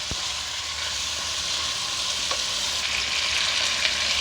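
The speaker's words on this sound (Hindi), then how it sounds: "हम 5 से 7 मिनट तक इसको अच्छी तरीके से इसमें फ्राई करेंगे।" Chicken frying in oil in a pan, giving a steady, close hiss and sizzle with a few faint clinks over the top, continuous throughout.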